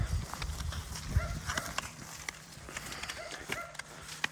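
A limping mare walks in an uneven clip-clop of hooves on wet, muddy ground in rainy weather, with soft thuds and rustling close by.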